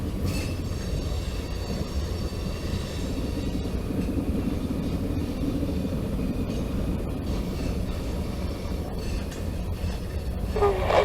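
A CSX freight train rumbles steadily past a street crossing on Ossie Davis Parkway, a continuous low roar with faint clanks throughout and a brief squeal near the end.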